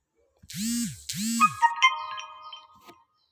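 A phone notification alert from the Plantik plant-pest app sounds alone: two swelling tonal pulses are followed by a quick run of bright electronic chimes that fade out within about three seconds.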